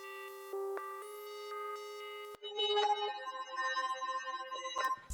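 A Serum synth patch with no Digitalis effect preset plays a clean, bright tonal line for a rave-style beat, with sustained harmonic notes changing pitch and then a busier, pulsing pattern with rapid note changes and a few sharp accents.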